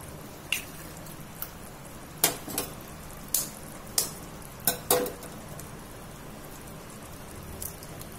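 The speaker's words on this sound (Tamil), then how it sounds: "வச்சுட்டு ஒவ்வொரு முட்டையா உடச்சி இதில் ஊற்றணும்." Eggs are cracked one by one and poured into a simmering egg curry, giving a series of sharp taps and splats over a soft, constant bubbling background.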